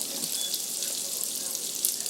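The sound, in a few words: water being added to broth while cooking jambalaya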